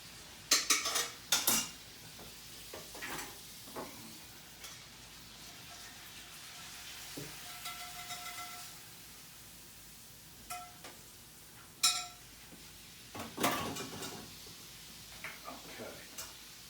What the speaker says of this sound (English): So let's take this off the fire. We're going to drain this.